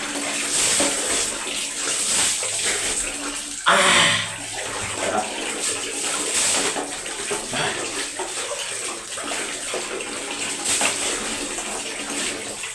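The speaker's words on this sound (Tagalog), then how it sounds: "ganyan lang maligo si Delmar" Water splashes and pours continuously during a bath, with one louder gush partway through and faint voices now and then under the running water.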